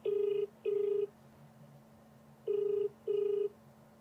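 A telephone call rings out: four steady electronic ring tones in two pairs, each pair of short buzzes separated by a pause, clear and moderately loud over a faint background hum.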